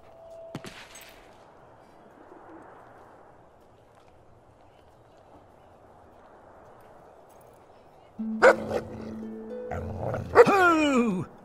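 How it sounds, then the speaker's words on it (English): An angry stray dog in Fable 2 barks and growls in a short loud burst near the end, after a long quiet stretch of faint game ambience with a brief sharp noise near the start. "There's a nice, angry stray dog."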